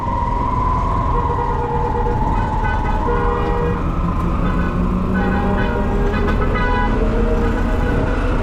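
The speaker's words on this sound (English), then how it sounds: "crazy traffic and markets." Busy Maputo, Mozambique street traffic heard from a tuk tuk: a steady, loud roar of engines with repeated car horn toots scattered throughout, all close and continuous.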